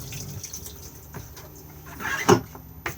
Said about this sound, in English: Push to flush on the blue button.